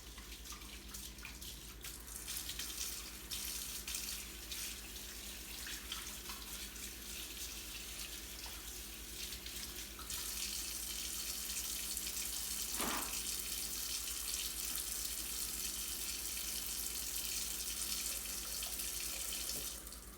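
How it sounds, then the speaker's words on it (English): Tap water running steadily into a sink while hands are washed, a continuous close splashing hiss that grows brighter and fuller halfway through, with no talk. "Remember when you're washing your hands to get between your fingers, the backs of your hands, your wrists, and get your fingertips."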